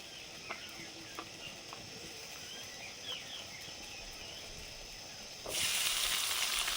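Black cumin seeds frying in mustard oil, a soft steady sizzle with faint crackles that swells into a much louder, fuller hiss near the end.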